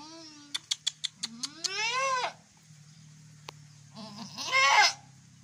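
A goat close to giving birth bleats in drawn-out, wavering cries, starting with a rapid burst of short pulses, then a long bleat, a pause, and a louder strained cry, all close and clear over a faint steady hum.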